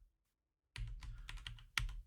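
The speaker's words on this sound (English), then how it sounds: "Hey, I'm typing here." Typing on a computer keyboard during a server lab session, with a short pause and then a run of close, crisp keystrokes and one louder clack near the end, no voices.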